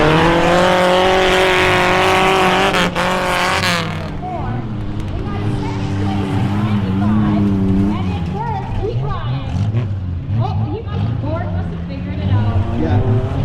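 Race cars at an ice racing event, a loud roaring engine drone that drops off after a few seconds, then fainter engine noise under steady talking from a commentator.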